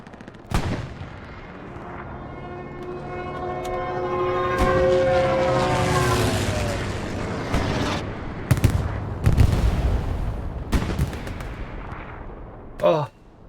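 Battlefield bombing run in a competitive team match: aircraft engines roar overhead in a rising and falling drone, then heavy explosions and scattered gunfire hit close by, loud and layered, with voices underneath.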